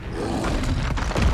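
A troll in Hogwarts Legacy lets out a deep, rumbling roar mixed with the thuds and clatter of combat, loud and close throughout.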